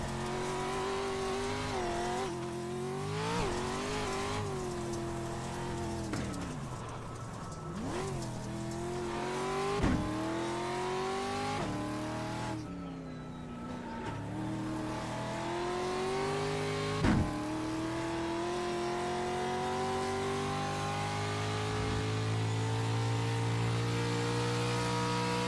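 A rear-wheel-drive race car in iRacing revs continuously, its engine pitch climbing and falling through gear changes with brief tire squeals, loud and near throughout.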